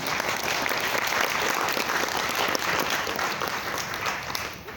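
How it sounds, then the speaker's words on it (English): Audience applause fills the room, a dense, steady clatter of many hands clapping close and loud, holding for several seconds before easing slightly at the end. "let's give a round of applause."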